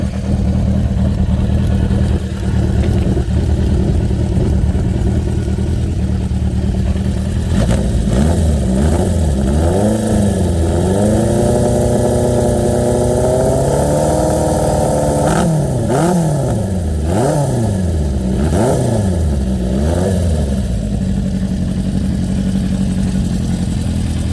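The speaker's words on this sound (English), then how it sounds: "Listen to that rumble." A 1975 Honda CB400 Four motorcycle with a stainless 4-into-1 exhaust idles with a deep rumble, then revs repeatedly in rising and falling bursts, loud and close, with no talking.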